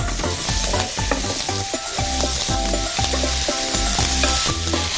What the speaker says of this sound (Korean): 먼저 팬이 달구어지면 여기에 포도씨유를 넣어주시는 거예요. 그리고 여기에 준비한 양파하고요. 그리고 당근을 볶아주세요.